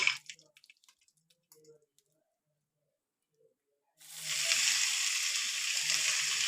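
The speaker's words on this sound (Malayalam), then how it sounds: "ഇനി നമുക്കിതിലേക്ക് അരിഞ്ഞു വെച്ചിരിക്കുന്ന വാഴക്കൂമ്പ് ഇട്ട് കൊടുക്കാം എല്ലാം നന്നായിട്ട് മൂത്ത് കിട്ടിയിട്ടുണ്ട്" Chopped banana flower hits a hot pan for a Kerala thoran, a loud broad sizzle bursting in after a few seconds of near silence broken by faint drips and clicks.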